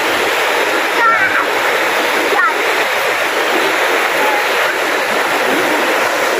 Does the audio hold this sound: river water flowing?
yes